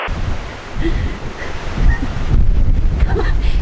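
Strong wind outdoors by the sea buffets the microphone in loud, continuous gusts with a rumbling low roar, close and unbroken, with faint voices barely heard beneath it.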